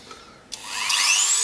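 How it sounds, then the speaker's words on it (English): A small electric drill bores a little hole in wood. After a brief click, the motor whine climbs steadily in pitch and holds close and clear, with no talking. "I'm just going to drill"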